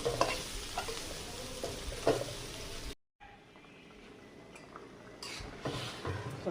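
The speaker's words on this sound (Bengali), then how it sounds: "এবার আমি ভেজে রাখা কচুরমুখীগুলো দিয়ে দিলাম, কষায় নেব।" Fried taro roots with chili powder are stirred and sautéed in a pan, giving a close, steady sizzle with scraping stirs; the sound cuts out briefly midway, then the frying resumes.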